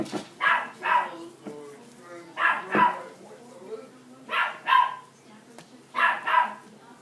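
A dog barks repeatedly in pairs of short yips, fairly close, with pauses between, over a quiet indoor background.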